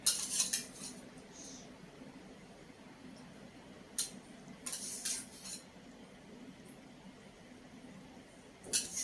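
Masala vada batter being mixed with salt in a metal vessel, with bursts of close clinking and scraping of utensil against the bowl separated by quieter stretches of soft mixing.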